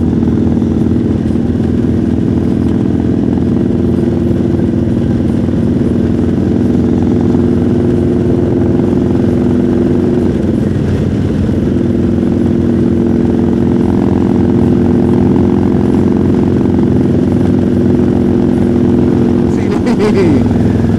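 A motorcycle engine idles close by, a loud, steady low rumble with a constant throbbing tone that barely changes, with a slight rev or disturbance near the end.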